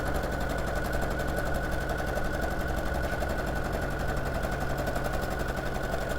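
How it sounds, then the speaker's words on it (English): A sewing machine stitches pieces of quilt fabric together in a fast, even rattle of needle strokes. The whirring clatter runs steadily and close throughout, with no voice over it. "And then just going to stitch that one together too."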